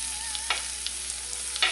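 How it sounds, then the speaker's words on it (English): Garlic, ginger, onion and spring onion fry in oil in a pan, a close, continuous sizzle with a few louder crackles and stirring scrapes. "into a pan with a drop more oil, going in with your garlic, ginger, onion and spring onion"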